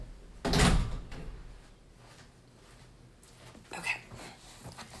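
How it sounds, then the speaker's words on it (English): An indoor door is pushed shut with one fairly close thump and rattle, followed by a quieter second knock or latch click a few seconds later against a hushed room background. "Let me just close the door really quick."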